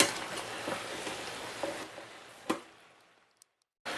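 Ground beef browning in a pan for chili gives a steady, close sizzle with a few small clicks. The sizzle fades out over about three seconds, then a short noise burst comes at the end.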